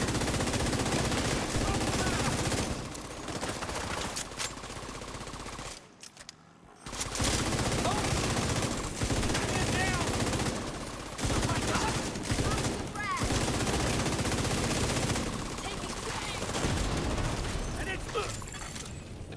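A video game's automated turret fires long, rapid machine-gun bursts, loud and close, stopping briefly once in the middle before resuming, with game voice lines and radio chatter mixed in.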